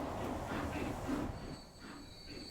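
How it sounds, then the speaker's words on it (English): Passenger train running on the East Coast Main Line in Transport Fever, wheels squealing and rails rumbling steadily, with a high metallic whine near the end and no talk. "we've got a passenger train up in front of us."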